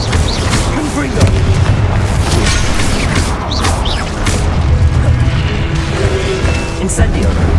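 Confringo fire spell blasts in the video game Hogwarts Legacy, heavy booming explosions going off repeatedly in quick succession among crackling combat effects, with a voice calling out spells over them.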